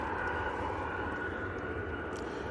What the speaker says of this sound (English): And now we have this Jet 2 737.